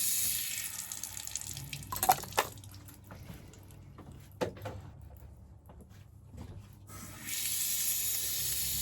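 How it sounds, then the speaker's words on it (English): A sponge rinsed under a running tap during a straight razor shave: steady splashing water at the start and again at the end, with a quieter stretch of scattered drips and clicks between. "Just gonna let that settle in for a second while I rinse my sponge off."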